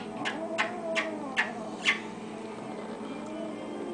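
A cat calls several times in short, rising meows spread over a few seconds, fairly close against a quiet indoor background with no talking.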